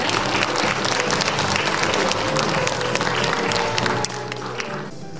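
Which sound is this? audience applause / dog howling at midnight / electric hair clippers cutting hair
audience applause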